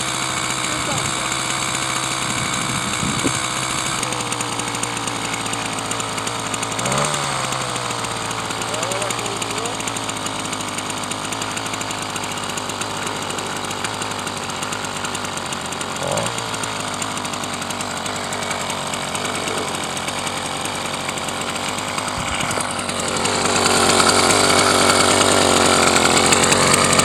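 An 80cc two-stroke motorized bicycle engine running steadily for a long stretch, a loud buzzing, rattling drone with small revs and pitch shifts, rising in level near the end, close to the listener.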